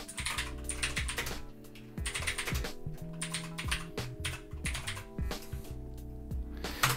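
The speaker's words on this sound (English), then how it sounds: "I'm just going to have to type fastboot space boot twrp.img, so I'll type that in now." A fastboot command is typed on a computer keyboard: quick, uneven runs of close, crisp key clicks with short pauses, steady for several seconds and heard alone.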